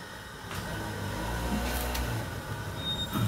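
A train in Sri Lanka rolls past close by, a steady rumbling roar with rattling wagon noise and brief metallic squeals, no talking over it.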